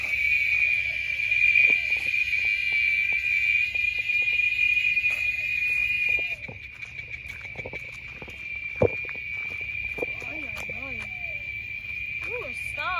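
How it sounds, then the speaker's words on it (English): A cicada drones loudly and continuously in an outdoor setting, a steady high buzz that drops somewhat in volume partway through, while birds chirp faintly and a voice speaks briefly. "That's a cicada, the loudest insect on the planet."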